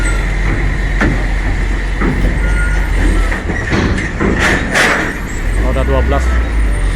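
A 12-wheel truck rolls onto the KMP Sagita ferry amid loud port activity, with a rumbling engine, clanks and thumps from the ramp, and a brief series of beeps near the end, with people talking over it.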